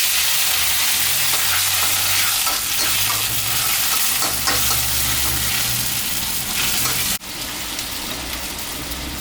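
Red tilapia and celery stir-fry loudly in a hot pan, a dense continuous sizzle with stirring scrapes that drops abruptly near the end, and no voices.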